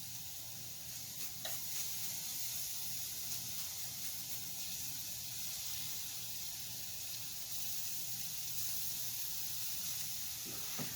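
Minced garlic frying gently in a pan on low heat, a steady soft sizzle and hiss running throughout with a few faint stirring clicks.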